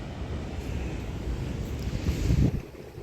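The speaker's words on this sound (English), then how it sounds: "It's pretty windy today." Steady wind buffeting the microphone with a low rumble outdoors at an RC rock crawling competition in the USA, swelling louder and gustier toward the end.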